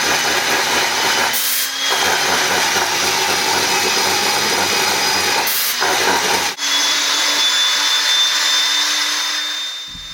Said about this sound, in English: a sander that's going to come down and put the finishing edge on the shoulder of the spoke so that we have a tight fit from the spoke to the felly